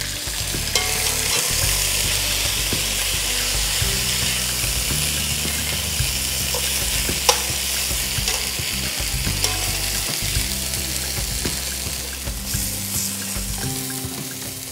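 Carrots sautéing in a pan until browned, about 1.2 kg of them, with a steady loud sizzle, repeated scraping and stirring strokes across the pan, and no voices.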